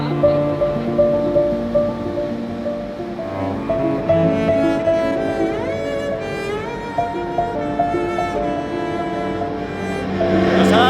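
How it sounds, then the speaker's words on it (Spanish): A ferry crosses the river from Brooklyn to Manhattan, with loud, steady rushing water and wind noise under sustained tonal whines that rise and fall, and no talk. "Por coger el ferry para volver a Manhattan."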